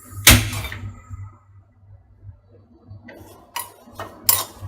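Pandan and curry leaves dry-roasting in a skillet, stirred with sharp, intermittent clinks and scrapes against the pan, close and sparse, with quiet gaps between strokes.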